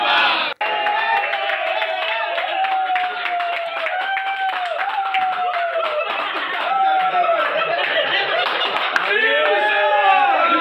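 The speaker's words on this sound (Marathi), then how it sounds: "ठाकरे गटाचे कार्यकर्ते सध्या उत्साह साजरा करतायत, जल्लोष साजरा करतायत, शिवसेना जिंदाबादच्या घोषणा दिल्या जात आहेत" Shiv Sena Thackeray-faction party workers celebrate Milind Narvekar's Maharashtra MLC election win. A dense crowd cheers, chants slogans and claps in a loud, sustained roar, with voices rising and falling throughout.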